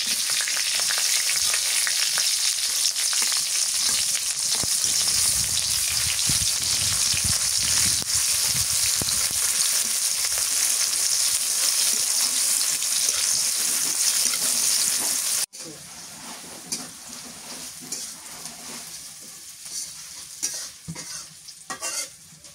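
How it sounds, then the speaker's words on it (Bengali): Chopped onion, whole spices and bay leaves frying in hot oil in a pan, a dense steady sizzle with scraping stirring throughout, dropping to a quieter sizzle near the end. "পেঁয়াজ মশলা ভাজা হয়েছে"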